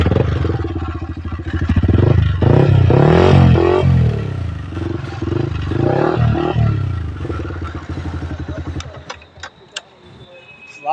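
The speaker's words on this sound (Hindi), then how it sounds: "देखो ये पूरा एग्जॉस्ट फुल मॉडिफाई है। एक बार चालू करके आपको दिखा दूँ" A Yamaha R15 V4 motorcycle with a fully modified exhaust runs with a loud, close, rasping roar that surges for about nine seconds, then cuts out to near silence with a few faint clicks.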